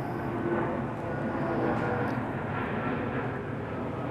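An airplane passes overhead outdoors, a continuous broad engine roar at steady loudness throughout, with no speech.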